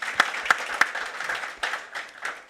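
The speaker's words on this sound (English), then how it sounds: "You deserve a round of applause." A small audience at an internet academy panel gives brief applause: a few sharp, distinct claps up front, then a lighter scattered patter that fades quickly.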